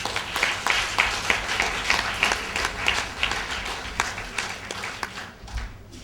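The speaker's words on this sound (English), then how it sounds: "Would you give them a big clap, please?" Audience clapping for primary school students at a back-to-school presentation, a steady, moderately loud round of applause that gradually thins toward the end.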